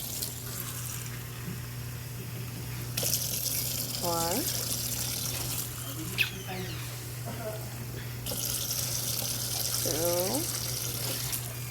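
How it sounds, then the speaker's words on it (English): Tap water runs steadily into a cooking pan while rice is being prepared, a continuous gushing hiss with brief breaks. A voice counts aloud over the running water. "So let's go get our 4 cups of water into our pan."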